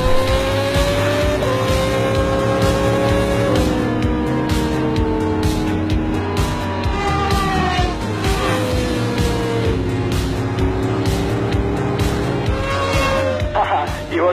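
Cars race through city streets, their loud engines roaring continuously and climbing through the gears. Tires squeal in places, and a voice talks over the noise.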